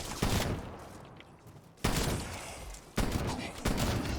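Gunfire in the video game Black Ops Cold War Zombies: loud, sharp bursts of shotgun-style shots with echoing tails, several blasts in an uneven rhythm, close up and dominant.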